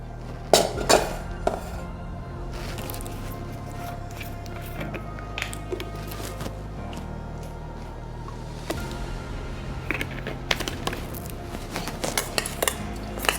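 Chicken wings tossed with more sauce in a bowl, with steady clinks and scrapes of a utensil against dishware and a low background hum.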